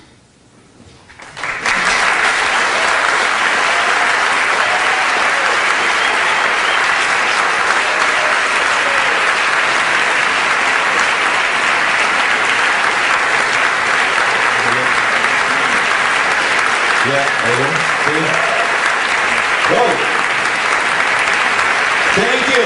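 Loud, sustained audience applause rises quickly after a short quiet start and fills a lecture hall continuously for about twenty seconds, with a dense clapping texture and some faint crowd voices underneath.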